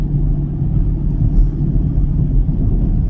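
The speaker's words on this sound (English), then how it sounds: "Oh, that exhaust. The dual mode exhaust" A 2024 Chevrolet Camaro LT1 with dual mode exhaust gives off a deep, steady low rumble, loud and close, without revving peaks or any voices.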